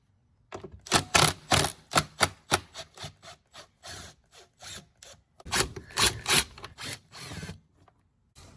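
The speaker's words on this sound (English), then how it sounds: "we're going to start by removing these bolts. You can use either a Phillips screwdriver" Bolts being worked loose with a Phillips screwdriver or 8mm ratchet on a Jeep Patriot during a filter replacement: a series of close, sharp scraping and clicking bursts in irregular rhythm, with short pauses between, no talking.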